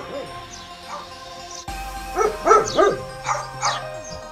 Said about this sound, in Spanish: Los perros, en cambio, se comunican ladrando, aunque también tienen la capacidad de aullar.